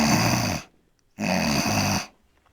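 Two rattling nasal snore-like bursts made by vibrating the uvula with air forced through the nose, mouth closed, as a caracal voice imitation; the second burst is longer, separated by a short silence, close and fairly loud.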